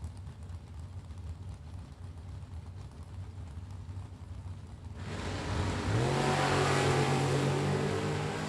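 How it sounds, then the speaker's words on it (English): Door cars at a drag racing bracket event launch and accelerate down the track, a distant engine hum building into a loud roaring surge with a rising engine pitch, with no talk. "Double entered door cars with their second entry on the track right now."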